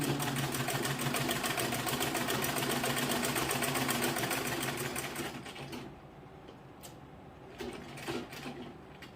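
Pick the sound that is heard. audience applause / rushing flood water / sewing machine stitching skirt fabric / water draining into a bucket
sewing machine stitching skirt fabric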